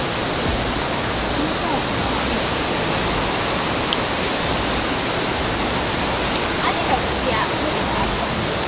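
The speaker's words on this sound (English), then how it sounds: "Just gonna get one last view of that waterfall." A waterfall on a hike in Kauai, Hawaii, pours in a dense, steady broadband roar, loud and close, with no pause across the whole stretch.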